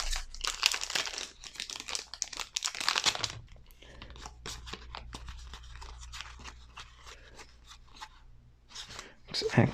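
Board game cards for Gloomhaven: Jaws of the Lion are handled at a table, with crinkly shuffling and rustling taps in bursts, loudest early, under scattered talk.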